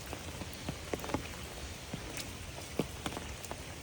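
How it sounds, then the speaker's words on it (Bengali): Steady rain after two days of nonstop downpour, falling as a constant soft wash with scattered louder drips and taps landing close by. "2 দিন ধরে হচ্ছে একটানা বৃষ্টি হইতেছে"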